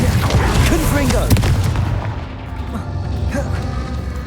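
A Confringo blasting spell explodes in Hogwarts Legacy with heavy, booming impacts and crackling debris that fade after the first two seconds, while a voice speaks over the blasts.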